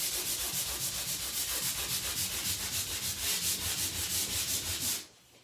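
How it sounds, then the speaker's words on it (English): Steady back-and-forth scraping of 150 grit sandpaper on a felt block over plaster, a rhythmic rasping hiss that continues evenly for several seconds before stopping abruptly. "I'm just going to take some 150 grit sandpaper around a felt block"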